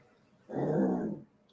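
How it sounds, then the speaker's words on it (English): A dog's low growl, a single close rumble lasting under a second that rises out of a quiet room and stops abruptly, with no voices over it. "No growling either"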